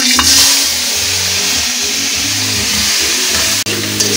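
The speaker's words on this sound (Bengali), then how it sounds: "গরম জলে আমি যে চিংড়ি মাছটা দিয়েছিলাম সেটা আমি সেঁকে নিয়েছি, নিয়ে তেলের উপরে একে ভেজে নেব।" Dried shrimp, first soaked in hot water, fry in hot oil with a steady, loud sizzle and crackle that lasts throughout, broken by a brief dip near the end.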